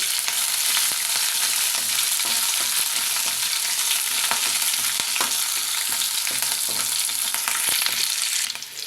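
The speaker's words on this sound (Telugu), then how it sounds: "కరివేపాకు అలాగే పచ్చిమిరపకాయ ముక్కలు ఇవి కూడా ఆయిల్లో కొంచెం ఫ్రై చేసుకుంటాం" Curry leaves and green chili pieces crackling in hot oil for a ponnaganti leaf rice, a dense continuous sizzle up close with sharp pops and occasional stirring, fading slightly at the very end.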